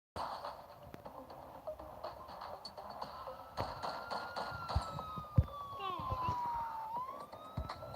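A police car siren wails in a bank robbery video game. The siren rises and falls as a faint, distant tone under game noise and sharp knocks, while a voice talks quietly.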